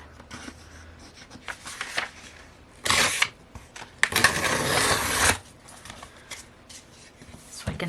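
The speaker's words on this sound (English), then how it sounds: "what I'm going to do is rip it in half" Paper journaling sticker ripped in half, a close, loud tearing burst followed by a longer sustained rip, between quieter handling rustles of paper, with no speech.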